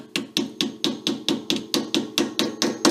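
Even, rhythmic hammer taps on a pinion seal going into a Jeep Wrangler differential, about a dozen in quick succession, each a short sharp knock close by with no talking.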